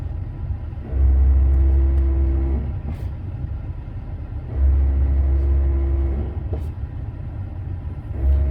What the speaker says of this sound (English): Basically, it's shuttling all the valves in the ABS unit, and it'll actually push air up in through the master cylinder.